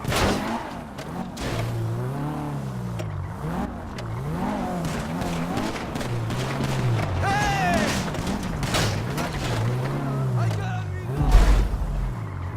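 Wrecked car driving in the video game GTA during a bank robbery, its engine whine rising and falling in repeated revving sweeps, with a brief skid or crash near the end, mixed with voices talking over it.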